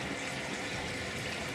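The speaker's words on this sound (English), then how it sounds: "now I've got plenty of water pouring down the drain" Steady rushing gush of water pouring down a bathtub drain and overflow during a leak repair test, continuous and fairly close with no voices.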